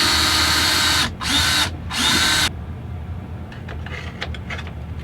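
Power drill driving screws back into an epoxied bracket on a popup camper: three loud, close bursts of whirring, the last held longest, followed by quieter handling clicks.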